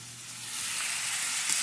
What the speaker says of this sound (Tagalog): Prito pa tayo, no?